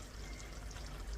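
A brief, steady pour of honey into a dish, heard as a soft, continuous liquid flow at low volume with no talking.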